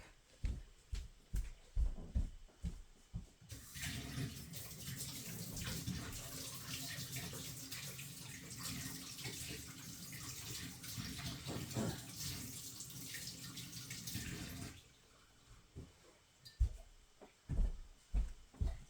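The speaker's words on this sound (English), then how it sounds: "I'm going to go rinse these out, and I'll be right back." Tap water runs steadily for about ten seconds while crafting tools, an embossing folder and block, are rinsed, framed before and after by soft knocks and handling clatter nearby.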